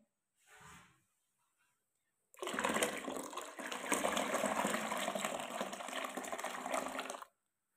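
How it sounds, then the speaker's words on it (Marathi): Water gushes steadily into a container of ground rice for several seconds, a loud continuous pour after a brief faint sound and a pause. "आता आपण ह्याच्यामध्ये पाणी ओतून घेणार आहे"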